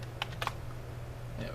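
Light typing on a computer keyboard, a few quick soft key clicks in two short bursts, close and faint over a low steady hum.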